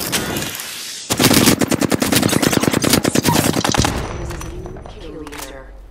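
Rapid automatic gunfire in the Apex Legends video game, a loud sustained burst of closely spaced shots lasting a few seconds before tapering into scattered game sounds.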